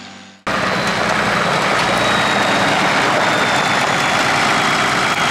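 Earthmover powered by a Toyota Landcruiser turbo diesel engine, idling steadily and loud, close up, after a brief quiet moment at the start.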